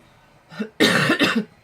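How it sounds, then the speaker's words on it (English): Two or three harsh, explosive coughs close to the mic, a short first hack followed by a louder burst of rough, raspy coughing. "Cough my guts up, as you do."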